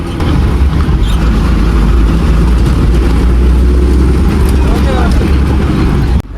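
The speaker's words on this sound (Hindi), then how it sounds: "यहाँ कुछ सवारियां उतरी और थोड़ी ही देर में बस फिर से चल पड़ी अपनी पहली मंजिल संगणी की ओर" Loud, close bus engine droning and building as the bus pulls away from a village stop on the Dandi to Sanghni route, a continuous heavy rumble with faint chatter from passengers.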